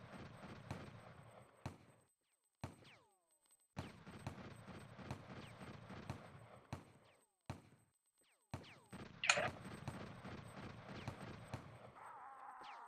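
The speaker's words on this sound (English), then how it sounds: "So this time, Chuck, when you're shooting, instead of shooting first, strafe and then shoot." Gunfire in the video game Infantry Online comes as several sharp separate shots spread across a stretch of quieter game noise, fairly faint overall, with a brief bright burst near the end.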